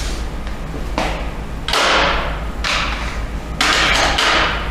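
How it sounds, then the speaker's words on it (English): A hammer, a piece of PVC pipe and a milling tool are set back into a tool holder at a Bridgeport milling machine, giving three or four distinct knocks and clatters over a steady shop hum. "We're going to put this back in our tool holder, as well as putting our piece of PVC pipe and our hammer back as well."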